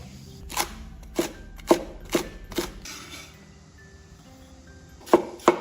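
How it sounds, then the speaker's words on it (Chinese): Knife chopping cabbage on a board, about five sharp close chops in an uneven rhythm, then a pause and two more quick cuts. "包菜切碎"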